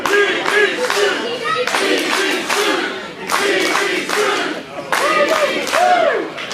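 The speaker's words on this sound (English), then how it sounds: "As the crowd chants the urban playboy's name, Pretty Boy Smooth" A pro wrestling crowd at an Emerge Pro Wrestling match chants Pretty Boy Smooth's name in loud, rhythmic bursts, mixed with clapping and cheering that rise and fall across the arena.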